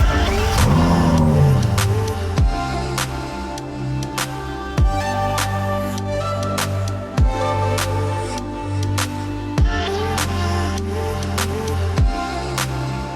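Onboard a Ferrari F12 Berlinetta on the road, its V12 roars close and loud, climbing through the revs in repeated pulls, each broken by a sharp gearshift blip, with no talking.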